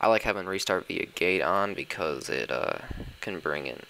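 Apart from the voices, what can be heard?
None of the usual background noises is heard.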